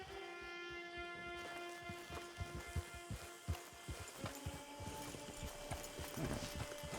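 Horse hooves clip-clop in the video game Red Dead Redemption Online: a quiet, irregular run of hoof knocks over a soft musical drone and ambient hum, with no talk.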